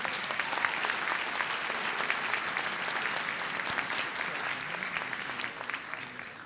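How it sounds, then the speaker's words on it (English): Sustained applause from a banquet audience, many hands clapping steadily at a moderate volume, continuing throughout before fading a little at the end. "a little applause"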